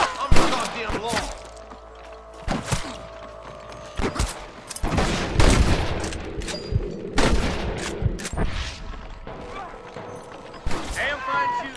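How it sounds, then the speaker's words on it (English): Scattered gunfire in the video game Red Dead Redemption: irregular single shots and volleys ring out near and far, mixed with thuds and mechanical clicks, and voices talk between the shots. "Damn fine shooting, boys."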